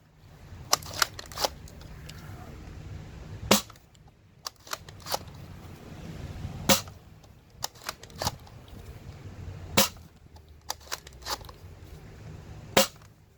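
A Nerf Prophecy sniper blaster fired through a chronograph, sharp snapping shots spaced a second or two apart, each followed by faint clicks and mechanical handling.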